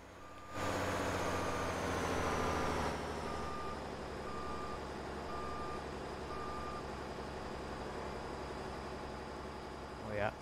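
A tow truck in Roblox Studio sounds a steady series of evenly spaced reversing beeps over a constant engine drone, and the beeping stops partway while the engine keeps running.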